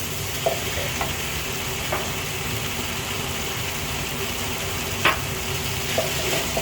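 Pork stir-fried with chili paste in a hot pan gives a steady loud sizzle, with a few sharp scrapes and clacks of the spatula stirring.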